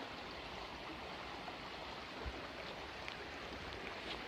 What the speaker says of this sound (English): I think it was just the flow of the water. There is quite a lot of flow today.